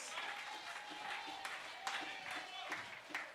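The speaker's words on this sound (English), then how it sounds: "Give our chairman another round of applause" Applause from a town hall crowd at a Saint Lucia Labour Party meeting in Micoud North, a fairly quiet, steady wash of many hands clapping with a few sharper claps standing out and murmuring voices underneath.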